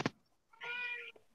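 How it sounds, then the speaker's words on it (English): A neighborhood cat gives a single clear, drawn-out meow, close and fairly quiet, after a short soft click and with brief silence around it. "I got a cat, the neighborhood cat, that comes and visits."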